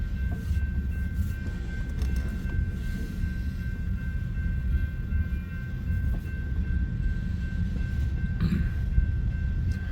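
A freight train hauling refrigerated cars of meat, poultry and produce rolls past with a continuous low rumble and steady rail noise, a faint high whine from the reefer units running over it throughout.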